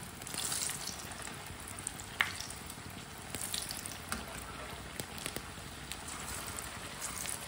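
Aloo tikki fry in a pan with a steady, close sizzle and crackle that carries through the whole stretch, with a few sharper pops along the way and no talking.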